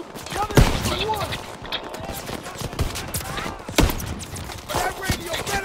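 Rapid gunfire bursts crackle through a WWII video game battle, with sharp shots at about 0.6 s and 3.8 s standing out over a dense, continuous layer of distant firing and combat noise, while voices talk over the action.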